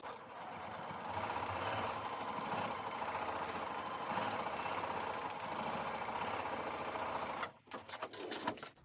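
A sewing machine stitches pieced rows of a scrappy heart quilt block in a steady, continuous whir for about seven seconds, then stops abruptly, leaving a few soft handling clicks and rustles.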